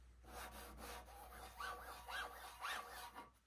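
Wood board slid across the textured cast table of a Hammer C3 41 combination jointer gives a soft, faint rasping scrape in a few uneven strokes, close up with no talking.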